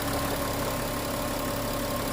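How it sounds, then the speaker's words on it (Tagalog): A repaired Volkswagen Touareg V6 engine idles steadily after a no-start fault, a continuous close mechanical hum with an even, unbroken level throughout. "Ayan, umaandar na yung ating makina."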